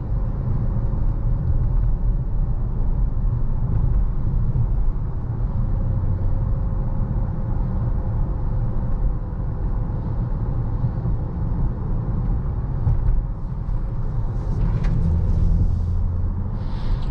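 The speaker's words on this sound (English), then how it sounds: "Yeah, even as a V6, this car is fun to drive." A 2021 Dodge Charger GT with a V6 engine driving on the road, heard from inside the cabin as a steady low rumble of engine and tyres, constant and fairly loud, with faint brief noises near the end.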